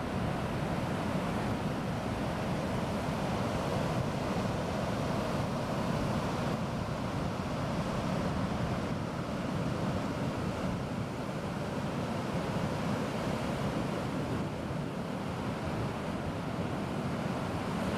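Surf washing onto Karon Beach in Phuket, a steady broadband roar of waves with wind buffeting the microphone, continuous and fairly loud throughout with no voices.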